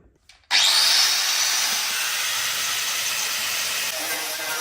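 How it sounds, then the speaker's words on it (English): A power sander starts abruptly and runs at a steady, loud, hissing grind against metal without stopping. "So I'll just get the sander out and start sanding."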